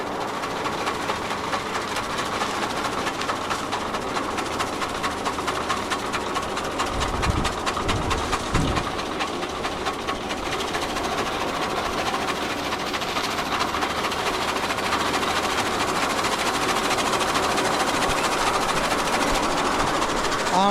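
A modified chaff cutter machine runs steadily with a continuous mechanical whirr and rapid rattling clatter, loud and close, with brief low thumps partway through.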